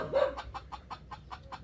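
A labuyo junglefowl crossbreed chicken gives a rapid series of short, rhythmic clucks, close and fairly clear over a quiet background.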